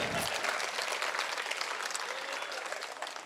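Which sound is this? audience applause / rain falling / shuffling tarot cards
audience applause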